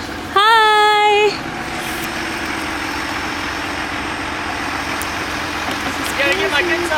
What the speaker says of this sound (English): we have 3 trucks of concrete and they are about to start pouring